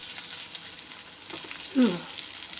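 Eggplant pieces fry in a pan with a steady close sizzle, broken briefly by a faint stir or scrape.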